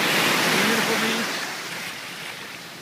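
Surf rolls in at Medano Beach in Cabo as a loud, broad wash of breaking waves that slowly fades over a few seconds, with a faint voice briefly underneath.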